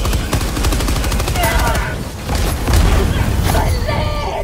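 Sustained gunfire in the Helldivers 2 video game, dense rapid bursts with heavy low booms and a few brief voice fragments mixed in, loud and close throughout.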